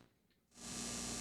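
Low electrical hum from a Generation Loss MKII lo-fi tape-emulation pedal, quiet at first, then swelling into a steady buzzing drone with a hissy layer that holds to the end.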